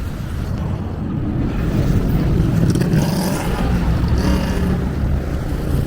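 Steady roar of heavy traffic on a busy road without traffic lights in the Colonial Zone of Santo Domingo, Dominican Republic, vehicles rumbling past continuously and close by with no break.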